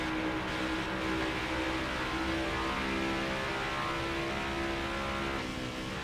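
Steady whirring roar of a NASCAR Next Gen race car lapping an oval in NASCAR Heat 5, a constant engine drone with a faint tonal whine, holding at a fairly even level throughout.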